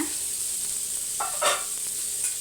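Fish fries in oil on a flat tawa, a steady close hiss with a couple of short clinks and scrapes from turning, no talking.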